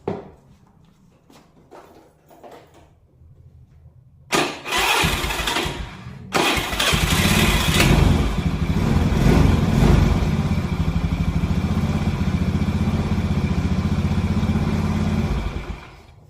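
A carbureted Honda Beat scooter, just fitted with a new Bendix starter drive, cranks briefly, catches, and settles into a steady loud idle, with a few faint clicks before the start.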